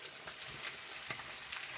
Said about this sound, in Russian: Тут у меня мяско жарится.